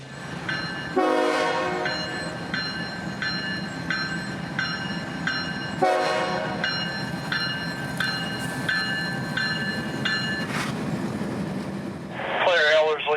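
A CSX heritage freight locomotive, unit 1836, labors uphill on the RF&P line with a deep, steady engine rumble, sounding its horn in long blasts twice, with rail noise throughout.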